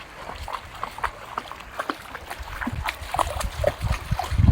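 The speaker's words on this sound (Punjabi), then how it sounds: "ਪਾਣੀ ਦੇ ਵਿੱਚ ਪਾਣੀ ਕ੍ਰੋਸ ਕਰ ਰਹੇ ਹਾਂ" Feet wading across a shallow stretch of the Ghaggar river, shallow water sloshing and splashing in irregular steps that grow louder and closer toward the end.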